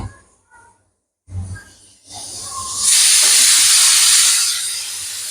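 A pressure cooker boiling dal lets out a loud, sustained steam hiss that starts after a few quiet clunks and rises to a steady roar for a couple of seconds before tapering slightly.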